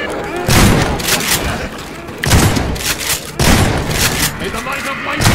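Gunfire in the game Half-Life 2: three loud, close bursts of shooting, each a sharp blast followed by rattling decay, with voices talking between them.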